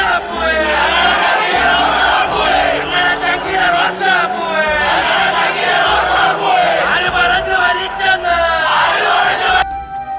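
A dense street crowd mourning VS chants slogans in unison in heavy rain, loud and close, the rhythmic shouting swelling and repeating for about ten seconds before cutting off abruptly.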